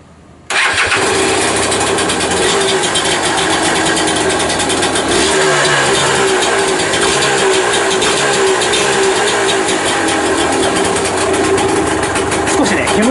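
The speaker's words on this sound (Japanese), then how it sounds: "とりあえずちょっとエンジンをかけてみましょうよ。" A LANZA motorcycle engine bursts into life after a brief start and runs at a steady, buzzy idle up close, with a voice faintly talking under the engine noise.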